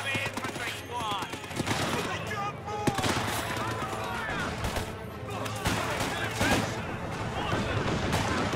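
Dense infantry gunfire rattles through a Company of Heroes 2 battle, rapid bursts of rifle and machine-gun shots overlapping continuously, loud and close, with voices shouting over the shooting.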